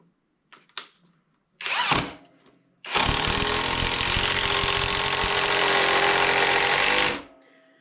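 A Greenworks power drill drives a 4-inch screw: a couple of short trigger blips and a brief burst, then a long, loud, steady whirring run of about four seconds that cuts off abruptly.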